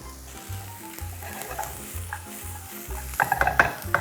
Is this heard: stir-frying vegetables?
yes